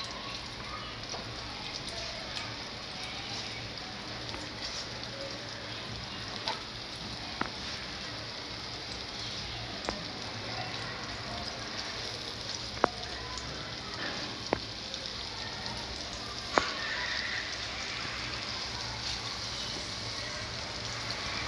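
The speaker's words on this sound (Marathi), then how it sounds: "अशी आपल्याला एक एक करून फ्राय करायला टाकायचे।" Fish pieces coated in semolina and rice flour fry in a pan, giving a steady crackling sizzle throughout with scattered sharp pops, close and even, with no talking.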